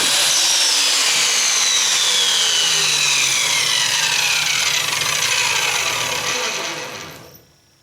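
A saw cuts steadily through wood for a gaming shelf, a loud continuous rasping whine with slowly falling pitch that runs for several seconds, then fades out as the cut finishes. No talking.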